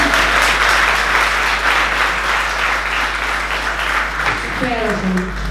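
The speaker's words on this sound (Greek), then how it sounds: "ένα χειροκρότημα ακόμα" Audience at a book presentation claps in a steady, continuous round over a low hum, with a voice emerging faintly near the end.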